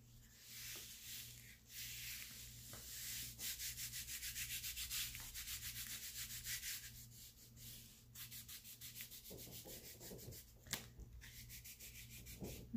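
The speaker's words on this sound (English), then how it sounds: "be careful rubbing on your napkin, because they're delicate and it could rip" A delicate napkin glued onto a card stock travelers notebook cover is rubbed by hand, giving a soft, steady, close-up scratchy swishing in repeated strokes, quiet and alone.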